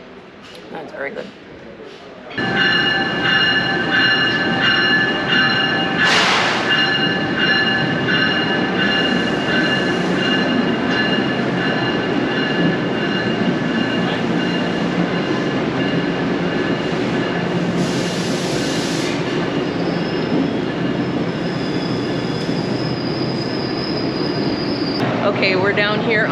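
An Amtrak train sits and rumbles at a station platform, with a steady mechanical hum, tonal whine and brief hissing bursts, while people talk nearby.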